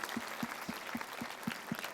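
Crowd clapping for a woman at a live gathering, sustained dense applause with a steady rhythmic pulse of louder claps, close and even in level, with no voices over it.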